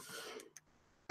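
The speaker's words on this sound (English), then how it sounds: "Sorry for all the coughing." A person recovering from a cold clears their throat, first a soft raspy rumble, then after a short silence a single sharp, loud cough up close.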